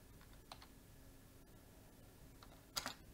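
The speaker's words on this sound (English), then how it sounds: "And I type my question." Faint keystrokes on a computer keyboard come as a few scattered soft clicks while a quiz question is typed, followed near the end by a short, brighter burst of clacking. The room is otherwise quiet.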